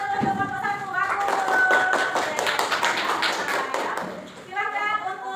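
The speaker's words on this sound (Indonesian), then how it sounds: "Kita kasih tepuk tangan untuk kelompok 1" A classroom group claps for the first student group after their presentation, with a dense burst of hand claps rising and fading over several seconds beneath a teacher's voice, which also carries on through the clip.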